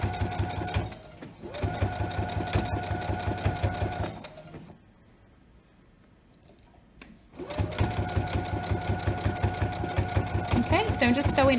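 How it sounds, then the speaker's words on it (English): A sewing machine stitches pajama shorts to the fabric edge in steady, loud bursts of rapid needle chatter, pausing to near silence in the middle before running again. "So I'm just sewing all the way to the edge there."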